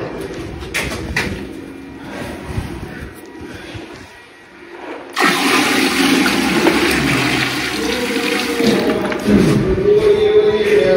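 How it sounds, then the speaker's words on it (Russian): Water emptied into a home toilet, heard as a loud, steady rushing flush that begins abruptly midway and continues close by to the end, following a quieter stretch of rustling and faint room noise. "Можно у вас воду вылить? У вас, наверное, унитаз есть."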